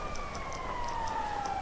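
In GTA V Online, an in-game emergency siren holds a steady, slowly falling tone under faint periodic chirps, moderately distant, with no talk.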